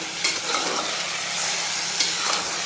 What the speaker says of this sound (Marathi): आणि फुल गॅसवरच त्याला छान परतून घ्यायचं एक 5-6 मिनिट.